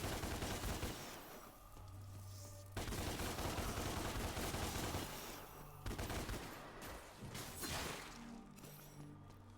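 Gunfire from shooting bugs in the ground in a video game, sounding as dense, continuous bursts of shots and crashing impacts for the whole stretch, loud and busy with a low rumble underneath.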